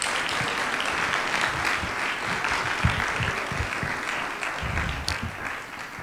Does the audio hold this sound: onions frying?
no